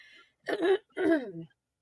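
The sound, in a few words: coughing and throat clearing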